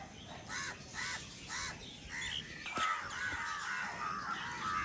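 A flock of crows occupying a tree near a coconut palm caws in repeated rhythmic bursts, moderately close, overlapping calls continuing throughout.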